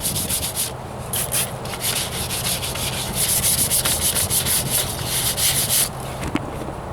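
Hand sanding on a Ford Ranger rocker panel repair with 500 grit sandpaper, a steady, close scratchy rubbing that runs continuously with brief rhythmic strokes and no talking.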